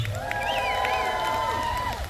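Crowd at a timber show axe-throwing event cheering and shouting steadily, with whoops and a few high children's voices rising over a sustained roar of the audience.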